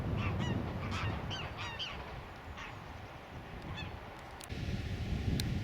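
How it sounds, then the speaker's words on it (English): Geese honking as they take off from a shallow, slow-moving river pool in Wharfedale, a flurry of repeated calls at moderate distance over steady water and outdoor ambience. "if we'd have got into these geese anyway,"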